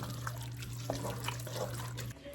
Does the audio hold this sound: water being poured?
yes